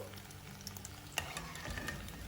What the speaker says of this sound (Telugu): మిగతా అన్నీ కూడా ఈ విధంగానే వేయించుకుని తీసుకోవాలి.